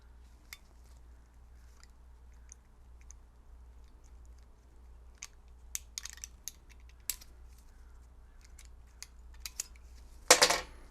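A blade cuts out an old seal from a BMW E46 steering rack during a rebuild, making scattered faint clicks, scrapes and small snips in a quiet room, ending with a louder burst of clattering handling noise.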